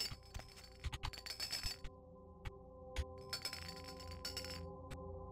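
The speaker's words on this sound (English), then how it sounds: "They sound like real shot glasses." Shot glasses clink on a bar surface in Vampire: The Masquerade – Bloodlines, with a few bright glassy taps over steady game ambience and background music.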